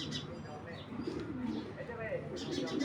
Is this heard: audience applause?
no